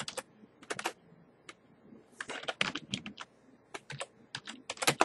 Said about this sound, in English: you go to Google and you type in